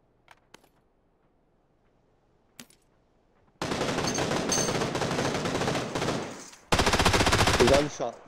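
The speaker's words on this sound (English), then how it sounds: "Gunshot down below us" Rapid bursts of automatic gunfire in PUBG on the Haven map, two sustained volleys of loud, dense shots after a few sparse clicks and quiet moments.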